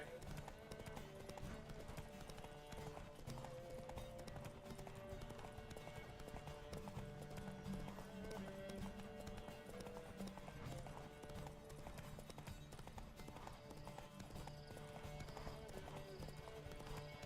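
Steady galloping horse hoofbeats in the video game The Witcher 3 run continuously under music and occasional voices, a long unbroken ride at constant loudness.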